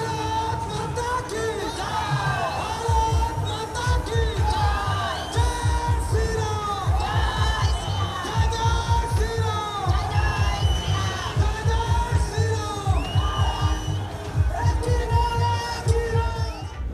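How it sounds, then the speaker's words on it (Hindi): A large crowd cheers at a political road show, a loud, dense roar of shouting voices over steady rhythmic low thumps that run through the whole stretch. "ओहो, कितनी भीड़ है!"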